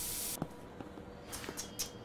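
Hissing spray bursts in a video game, a loud steady hiss at first followed by several short, quieter spray puffs spaced irregularly.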